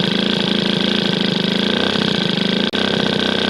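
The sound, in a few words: Motobécane 103 SP moped engine idling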